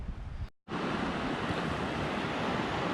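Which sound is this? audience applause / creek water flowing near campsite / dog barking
creek water flowing near campsite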